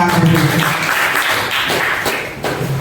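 A crowd applauds steadily, a dense wash of many hands clapping that holds for a few seconds without letting up.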